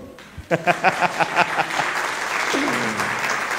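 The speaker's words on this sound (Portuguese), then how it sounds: "Pode aplaudir." Applause breaks out from a church congregation at a Sunday school training forum, opening with a few distinct claps that swell into steady, sustained clapping filling the room, with a brief voice underneath.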